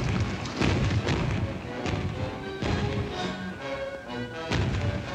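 Gunshots or cannon fire in a 1953 film about Fort Ticonderoga, heavy booms and thuds repeating at irregular intervals against a busy battle soundscape, with no speech.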